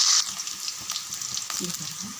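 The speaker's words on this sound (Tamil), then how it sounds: "ஒரு வெங்காயம், கொஞ்சம் கருவேப்பிலை, பாதி அளவுக்கு வதங்கினா போதும்" One onion and a few curry leaves sauté in hot oil for a fish kuzhambu, giving a steady close sizzle with faint stirring scrapes and a light voice underneath.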